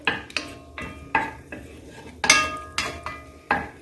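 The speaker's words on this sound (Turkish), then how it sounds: "Şimdi kıymamızı atıyorum. Kıymamız biraz kavrulsun." Utensil scraping and stirring minced meat frying in butter in a pan, repeated clanks at a steady rhythm with a light sizzle underneath.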